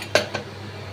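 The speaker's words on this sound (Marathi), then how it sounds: "चला मी आता तुम्हाला ही कुकर उघडून दाखवत आहे।" The metal lid of a pressure cooker holding brown rice khichdi is opened, giving two quick, close metallic clanks a fraction of a second apart over a faint background hum.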